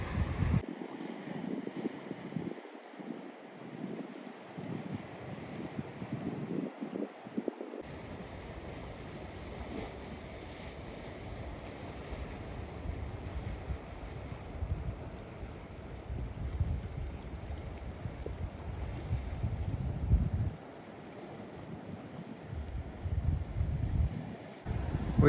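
Strong sea waves break on rocks near a port, a continuous rolling wash and rumble with wind buffeting the microphone, steady and moderately distant, with no talk.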